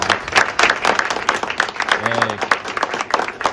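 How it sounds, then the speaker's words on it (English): Applause after the signing of a memorandum, a burst of clapping from a gathered crowd that runs throughout, close and fairly loud with voices mixed in. "And the clap."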